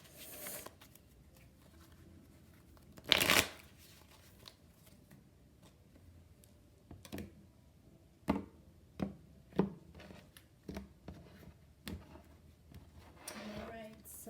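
A deck of tarot cards is shuffled by hand in a quiet room: one short, brisk riffle burst, then a series of soft, scattered taps and card clicks.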